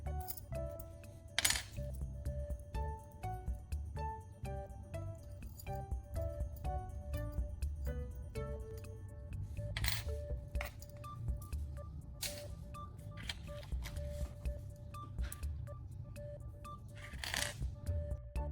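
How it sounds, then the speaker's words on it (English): Metal keys are handled near the microphone with repeated small clinks and jingles in irregular bursts, quiet and close, over a low hum, without speech. "I will prepare the keys to get ready for the connection."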